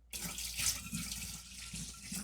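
Tap water runs steadily from a sink faucet, a continuous hissing splash lasting the whole stretch at moderate, close level with no talk.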